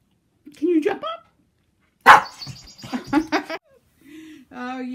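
A puppy yaps a few short, high barks close by in a backyard, mixed with people talking nearby.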